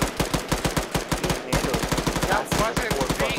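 Loud, rapid, continuous gunfire in a military simulation game on the Altis map, with bursts of shots crowding together close up and faint voices talking briefly underneath.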